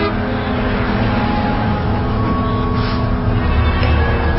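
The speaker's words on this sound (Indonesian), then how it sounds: "Itu mobil kijang merah marun lagi." A car, a maroon Toyota Kijang, rolls past on a toll road at night, its steady engine and tyre roar loud and continuous throughout.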